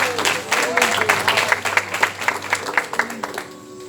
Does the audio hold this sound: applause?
yes